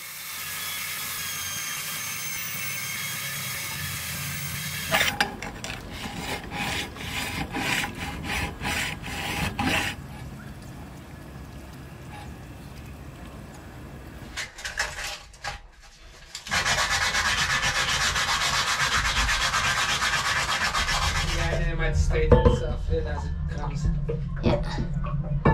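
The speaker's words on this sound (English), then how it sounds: "So we sanded off just a teeny bit of the male and female components." Pipe fittings, male and female ends, being sanded by rotating the pipe: rough rasping and rubbing strokes in uneven bursts, close and loud, with stretches of quieter handling between them.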